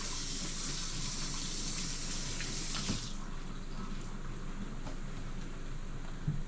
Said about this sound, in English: Wash your produce.